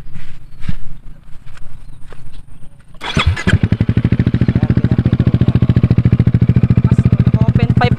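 A Yamaha XMAX 300 scooter with an Akrapovic open pipe starts up partway through and settles into a loud, close, throbbing idle with a steady pulsing beat. Faint voices and light background noise come before the engine fires.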